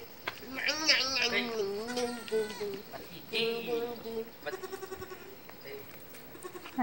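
Several goats and kids bleat repeatedly on a small farm, some calls close and loud, others overlapping, with a few short quavering bleats near the end.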